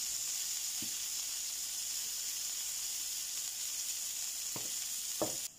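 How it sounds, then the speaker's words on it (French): A ground beef patty sizzles in a hot pan, giving a steady, close frying hiss with a few soft knocks as it cooks, and no voices. "Je mets le steak haché donc à cuire, quelques minutes de chaque côté."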